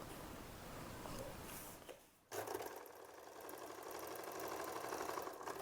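A sewing machine runs steadily, stitching along blue-marked lines on a paper practice sheet, with a brief pause at a turning point before the motor resumes its even whir; no talk.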